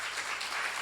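Church seminar audience clapping together, a dense, steady burst of many hands heard close and moderately loud throughout a brief moment, with no speech over it.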